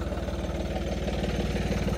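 A power-upgraded John Deere 5310 tractor engine runs at a steady idle, its deep rhythmic rumble close and continuous throughout, with no voices.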